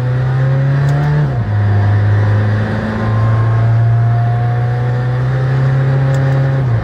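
A McLaren Senna engine drones loud and steady at close range in comfort mode, muffled, with one slight drop in pitch early on and a brief dip before it settles back to an even hum.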